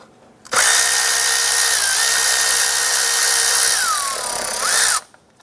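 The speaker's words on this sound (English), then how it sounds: "Use a 10 millimeter socket to loosen and remove this lower bolt here on the bottom side of that intake." A powered 10 mm socket tool whirs continuously for about four seconds, loosening and removing a lower intake bolt on a 2007-2012 Nissan Versa. The loud, close whine shifts pitch slightly before stopping abruptly.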